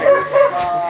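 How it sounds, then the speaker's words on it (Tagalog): A dog gives a couple of quick, close yelping barks followed by a brief whine, loud and alone. "Tara, may aso po."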